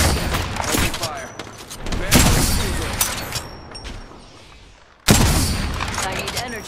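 Heavy gunfire and booming blasts in a hero shooter game, loud broadband bursts with sustained volleys that swell, fade and erupt again near the end, with game voice lines mixed in.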